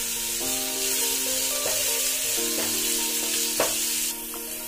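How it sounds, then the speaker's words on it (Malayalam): Sliced onions fry with salt in a pan, sending up a continuous close sizzle, with a few sharp scraping stirs of a utensil breaking through at intervals. "നമ്മുടെ ഉള്ളി ഇപ്പം ഇവിടെ ഒരു ബ്രൗൺ കളർ ആയിട്ടുണ്ട്."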